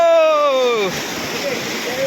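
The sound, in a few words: cold mountain stream water, feet stepping in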